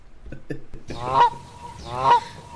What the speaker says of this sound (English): Goose noise.